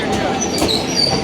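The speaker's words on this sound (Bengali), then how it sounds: "ট্রেন চলে এসেছে, ঝটপট করে এখন ট্রেনে উঠে যাই" A train arrives at a station, a loud continuous rumble of rolling wheels with faint metallic squeals and clatter, close by and steady throughout.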